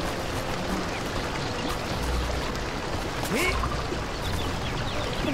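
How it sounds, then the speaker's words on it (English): Acid waterfall in the Skylanders Trap Team video game, a continuous pouring splash with faint chirps and game effects, under a player's speech. "Ooh, watch out for the acid! Acid waterfall."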